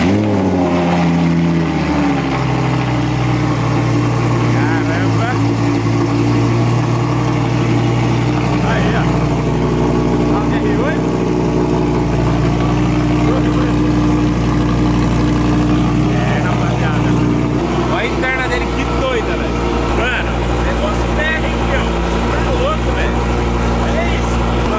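An Audi R8 engine idles loud and steady after a cold start, a deep rumbling hum with its pitch settling lower, while people talk nearby.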